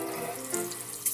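Water squirting from a Paw Patrol Sea Patrol bath toy, a close, steady hissing spray like a running tap, lasting about a second with a small splash at the end.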